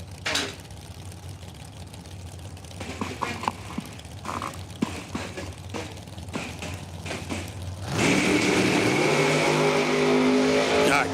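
Drag racing cars at Numidia Dragway during a bracket racing event: an announcer talks over faint track noise, then a loud burst of engines revving hard as the cars launch and accelerate away.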